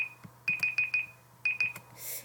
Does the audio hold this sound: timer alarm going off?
yes